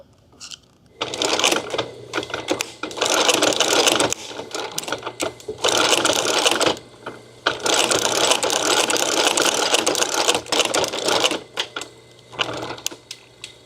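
A sewing machine stitches a stingray leather holster in several long, steady mechanical bursts separated by short pauses, loud and close with a rapid whirring rhythm.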